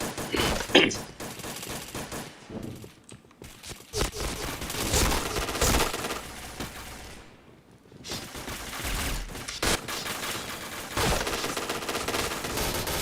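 Bursts of rapid automatic gunfire from a shooting video game fill the scene, dense and loud with brief lulls, while players talk excitedly over the shots.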